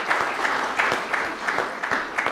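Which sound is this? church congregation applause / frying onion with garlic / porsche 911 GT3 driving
church congregation applause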